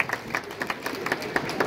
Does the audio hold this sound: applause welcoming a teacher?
yes